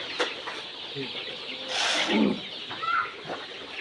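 Cock chickens cluck close by on a poultry farm, with repeated short clucks and squawks rising into a louder flurry midway.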